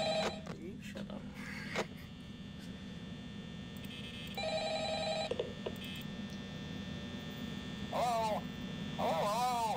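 Ringing telephone in the video game Five Nights at Freddy's: repeated electronic bell-like ring bursts over a constant mains-style hum, with faint background chatter between rings.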